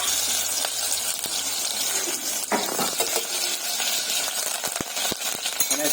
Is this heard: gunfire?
no